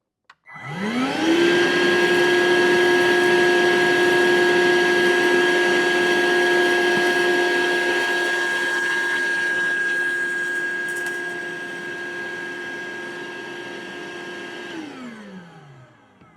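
A Ryobi ONE+ 18V cordless 1-gallon wet/dry vacuum runs on a large pile of sawdust mixed with other debris. It makes a loud, steady motor whine with a rising start-up and a falling spin-down at the end, and no one speaks over it.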